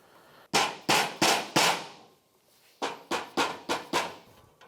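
New swingarm bushings being driven into a KLX110 dirt bike, sharp loud metallic blows, four spaced strikes then a pause followed by five quicker hits, close and with no talk.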